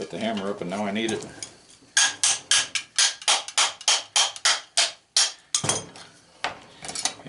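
A hammer strikes metal parts of an oddball automotive motor being scrapped for copper, a steady run of about a dozen sharp, close clanks after a brief stretch of someone talking.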